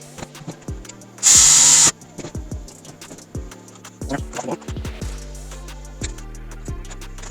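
A power tool drives a bolt into the mount of an ATV winch being converted to a portable unit, with one loud whirring burst followed by a run of ratcheting clicks and knocks close by.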